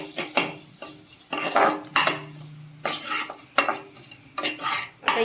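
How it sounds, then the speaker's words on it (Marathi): A spoon stirs spices and amchur powder into a taro leaf curry in a pot, with scraping strokes and light metallic clinks in an irregular rhythm, close and moderately loud with no talking. "मसाले चांगले मिक्स करून घेऊयात"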